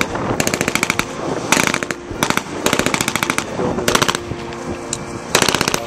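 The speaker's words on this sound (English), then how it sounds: "Gunshots, machine gun fire." Repeated bursts of rapid machine gun fire at a movie ranch, loud and close, each volley a fast rattling string of shots separated by brief pauses.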